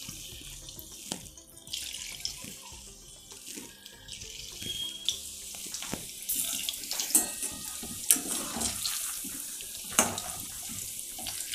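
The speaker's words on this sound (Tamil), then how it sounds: "ஸோ எண்ணெய் காஞ்சிடுத்து ஒரு காலிஃப்ளவராக அதில் போடலாம்." Cauliflower pieces drop into hot oil and fry with a steady, fizzing, watery sizzle that swells and eases, punctuated by a few sharp crackles, fairly quiet and close with no voices.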